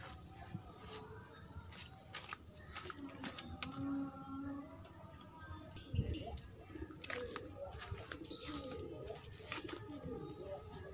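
A sick pigeon with a cold or cough gives low, raspy coos and snoring breaths, soft and close amid faint background chirps and rustling, with occasional voices nearby.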